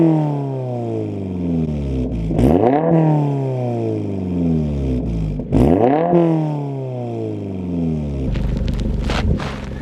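A 2022 Subaru BRZ with a new catback exhaust revs twice, to about 3,000 and 5,000 RPM, each time climbing sharply and dropping back to idle, and ends with a rough, rattly burble.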